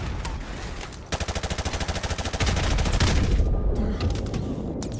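Automatic gunfire rattles in Call of Duty 4 Modern Warfare Remastered, a fast, even burst of close shots followed by heavier firing and booms, loud and dense throughout.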